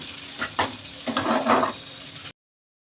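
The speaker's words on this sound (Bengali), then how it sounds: "তো দেখো বেশ লাল লাল করে ভাজা হয়ে গেছে" Food frying in plenty of oil in a pan, a moderate sizzle with a few stirring scrapes and clicks, ending abruptly in silence.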